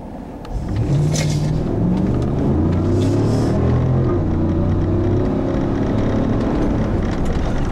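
Steady low engine drone of a 2015 GMC Yukon Denali with a 6.2 liter V8 while driving, with gear-like pitch steps as it pulls, plus road and wind noise and no talking.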